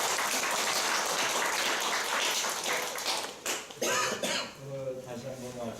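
An audience at a Uijeongbu city administrative innovation committee meeting applauds the press, a dense burst of clapping that thins after about three seconds into scattered claps as a voice begins speaking.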